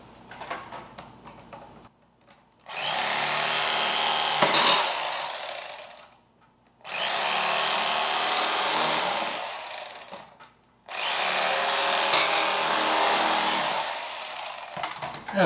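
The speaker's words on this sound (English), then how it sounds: "I've got my trusty electric knife." Electric knife slicing a loaf of homemade white bread, with three long buzzing runs of several seconds each, separated by brief pauses, loud and close.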